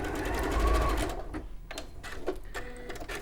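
A sewing machine stitches along the folded edges of a dress, whirring steadily at first and then breaking into short stop-start runs.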